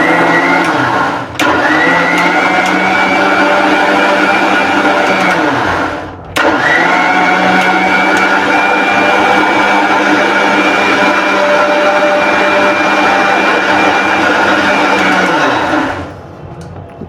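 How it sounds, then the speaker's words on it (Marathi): A mixer grinder whirs loudly while blending khandvi batter, running in a steady high motor drone that stops briefly twice and then winds down at the end, with no speech over it. "तर आपण आता मिक्सरला फिरूया"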